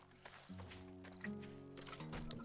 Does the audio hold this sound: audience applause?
no